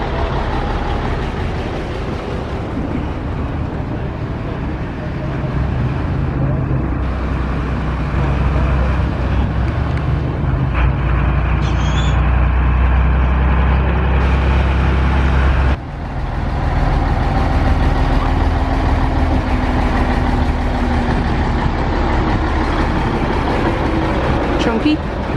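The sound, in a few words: Scania lorry arriving and idling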